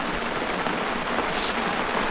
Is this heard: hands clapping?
no